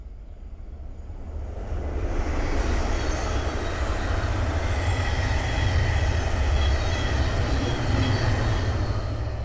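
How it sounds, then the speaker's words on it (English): A Thameslink Class 700 electric train running from Gatwick Airport to Bedford on the Midland Main Line passes nearby, a steady loud rumble and wheel roar building over the first two seconds and then holding, with no voices. "the next train to pass by is a Thameslink 700 from Gatwick Airport to Bedford"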